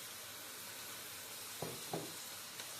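Diced potatoes sizzle with meat keema in oil for samosa filling, a soft, even frying hiss broken by a few sharp clinks of stirring near the end, quiet and with no voices.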